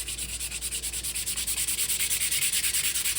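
Higher-grit sandpaper rubs back and forth over burn-marked engraved wood text in quick, even strokes, a close, soft rasping rhythm with nothing else heard.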